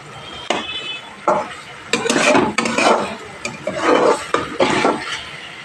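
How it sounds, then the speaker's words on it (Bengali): Spice masala for a village-style thin egg curry being sautéed in oil in a pan, with repeated bursts of scraping, stirring and clinking against the pan over a steady low sizzle, close and fairly loud, no talk. "আর একটু কষানো একটু বাকি আছে"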